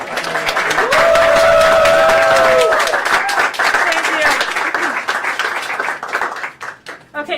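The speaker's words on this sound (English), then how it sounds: "how about a round of applause for her?" A small group gives Kate a round of applause, brisk clapping loud at first with a whoop over it, then thinning to scattered claps that fade out by the end.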